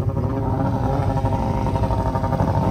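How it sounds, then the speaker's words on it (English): Snowmobile engine running steadily close by, a continuous loud mechanical drone with a rough, pulsing texture and no talk over it, out on a backcountry snowmobiling trip. "So here is our snowmobile."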